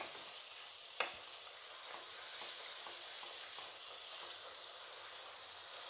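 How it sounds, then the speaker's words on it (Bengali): Goat liver curry stirred and sautéed in a pan, a steady broadband sizzle with scattered spoon scrapes and one sharp clack near the start, close and continuous with no talking. "ভালোভাবে এরকমভাবে কষাতে হবে"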